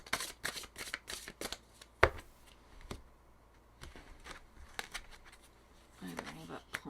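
Tarot cards being shuffled, handled and drawn, heard as close, crisp bursts of riffling and flicks with brief slaps between them, and a voice talking faintly toward the end.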